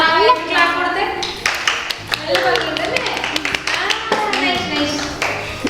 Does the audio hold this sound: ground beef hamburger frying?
no